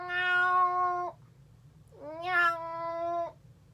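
A person imitates a cat's meow twice in a row, each a drawn-out, tonal, close and clear call separated by a short pause.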